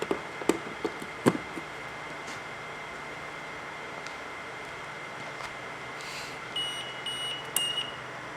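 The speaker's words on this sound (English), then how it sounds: "Alright, so I'm going to plug that back in so it stops beeping." A TrippLite UPS gives a few short electronic beeps near the end, after some faint clicks and knocks of handling cables, all over a quiet background hum.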